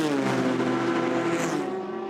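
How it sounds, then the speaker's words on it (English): A Ford GT GTE race car screams past at full throttle on the Mulsanne Straight at the 24 Hours of Le Mans while overtaking the number 51 Ferrari, its high engine note loud and close before fading slightly as it goes by. "That is the Ford taking a position away from James Collado, the number 51 Ferrari"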